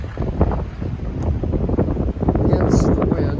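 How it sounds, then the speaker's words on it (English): Wind gusts ahead of an incoming storm on the Appalachian Trail in the Smokies buffet the microphone in a continuous low rumble, loud and close, with faint bits of sound coming through underneath. "it's always windy, but there's a storm coming in"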